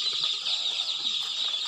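About 250 village chicken chicks peep at once in a constant, high-pitched chorus of chirping with no pauses.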